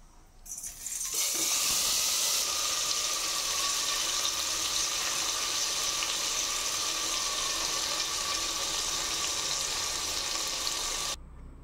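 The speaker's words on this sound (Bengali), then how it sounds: "এর মধ্যে এখন আমি মাংসগুলো ঢেলে দেব।" Mutton pieces poured into hot oil tempered with dried chillies, cardamom, cinnamon and cloves, giving a loud, steady, close sizzle that starts abruptly after a second and hisses continuously until it cuts off near the end.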